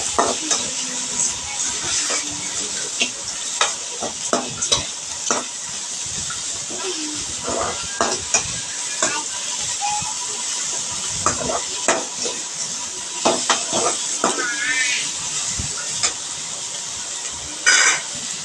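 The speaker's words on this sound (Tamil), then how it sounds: "நல்லா வதக்கிட்டு கட் பண்ண தேங்காவை போடுங்க. அதே நல்லா ஒரு 2 மினிட்ஸ் வதக்குங்க." Coriander and grated coconut sautéing in a pan for coriander chutney: a steady, close sizzle and hiss with frequent scrapes and clinks of a spoon stirring against the pan, running throughout without voices.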